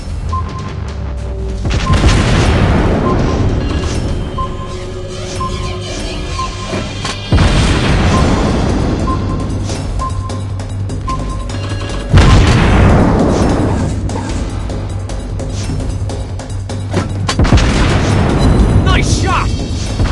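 Torpedo hits in a World of Warships Blitz naval battle land as a string of heavy booming explosions every few seconds, each followed by a long low rumble, loud and continuous under game effects.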